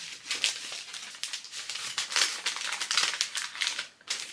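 Paper being folded and creased by hand into a Napoleon hat, a close, steady run of crinkling and rustling with no talk.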